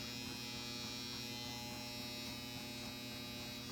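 Electric hair clippers run steadily during a home fade haircut, a continuous close buzz with a mains-like hum that never breaks.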